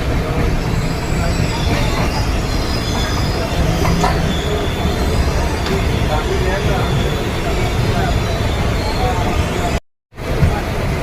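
The Madgaon Janshatabdi Express pulls into Kankavli station with loud, sustained wheel squealing and rumbling carriages close by, a brief dropout near the end and voices in the background.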